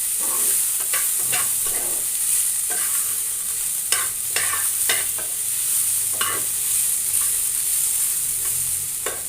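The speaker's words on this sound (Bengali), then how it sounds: "আবারও আমি এটাকে কিছু সময়ের জন্য নেড়ে ছেড়ে দিব" Food stirred and fried in a pan for a banana recipe, a constant sizzle with repeated spatula scrapes and knocks against the pan at an uneven pace.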